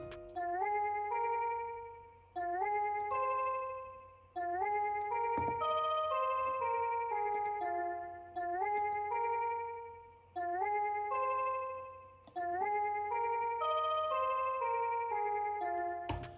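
A synth one-shot in an FL Studio beat plays with an EQ cutting out the lows, giving a chiming, clock-like melodic phrase that repeats about every two seconds and decays each time, with no voices.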